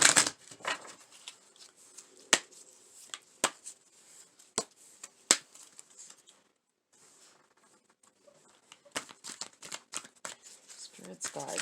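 Tarot cards being shuffled and pulled, a run of crisp riffling snaps and flicks, then a brief pause and another burst of quick shuffling close by.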